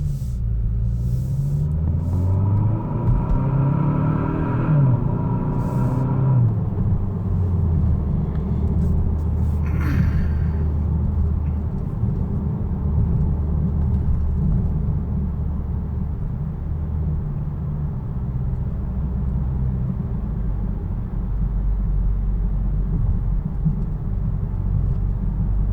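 Steady low exhaust drone from a Kia Stinger with an aftermarket axle-back exhaust, heard from inside the cabin while driving, with rising engine tones early on and a continuous rumble throughout.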